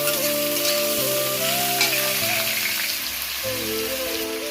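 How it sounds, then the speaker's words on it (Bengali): Sliced pointed gourd sizzles steadily in hot oil tempered with nigella seeds. The dense, continuous frying hiss is close and loud throughout, with faint music running underneath. "তেল গরম হয়ে গেছে, ফোড়নটা আমি দিয়ে দেবো কেটে রাখা পটল"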